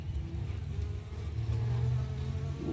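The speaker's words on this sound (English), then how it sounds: "All the bees are clambering all over it" Honeybees swarm over a hive frame during an inspection, giving a continuous low, close buzzing drone with no talk.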